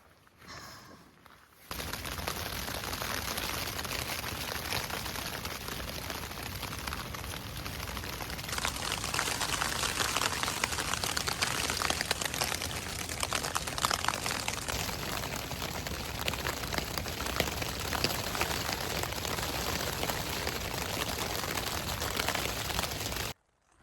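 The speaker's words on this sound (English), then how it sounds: "it started to rain at about half an hour before I got to camp" Steady rain falls on a Scottish hiking trail, a broad continuous hiss of drops that holds for over twenty seconds after a brief quiet start, with a faint high bird-like tone in the background.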